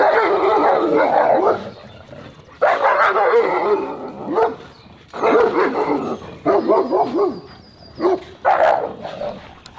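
Several German Shepherds bark and yip repeatedly in excited bursts, close and loud, with short whimpers between the barks.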